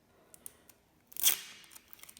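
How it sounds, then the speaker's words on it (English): Scissors snip through a strip of sellotape during a children's bug-making craft session, a single brief crisp cut with a short tearing rasp, close and fairly quiet, with no voices. "Use your scissors."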